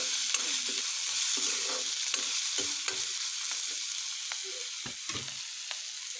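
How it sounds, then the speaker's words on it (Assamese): Crushed garlic and ginger paste stirred in a hot pan with a spatula, a steady sizzle broken by repeated scraping strokes of the spatula against the pan, no voices. "এইখিনি মই ভাল ধৰণে লৰাই ল'ম হেতাখনেৰে"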